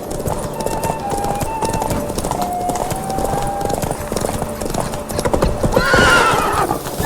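Horse galloping in a race in The Witcher 3, with steady close hoofbeats and several whinnies, the loudest neigh near the end, under occasional voices.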